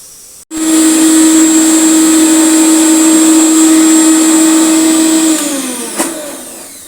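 An electric mixer grinder whirs loudly, grinding soaked matar dal into a paste with a green chilli: the motor starts abruptly, holds a steady high whine for about five seconds, then winds down.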